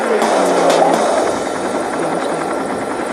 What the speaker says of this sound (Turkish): Oh, helikopter.